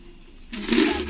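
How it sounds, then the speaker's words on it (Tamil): Water drains from a betta fish tank over stones, a sudden broad rushing gush that begins halfway through after near silence and stays steady and fairly close. "இப்போ தண்ணியெல்லாம் ட்ரைன் பண்ணிடலாம்"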